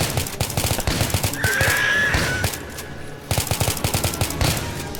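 Rapid bursts of gunfire crackle through a cartoon scene of townsfolk shooting at a mutated Pigman, with dense volleys running across the clip and a brief shrill tone in the middle.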